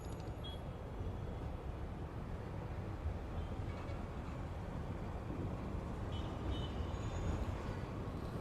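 A special festival passenger train on the Bangalore to Madurai route is heard from on board at speed, giving a steady, unbroken rumble and roar with faint higher squeals drifting over it.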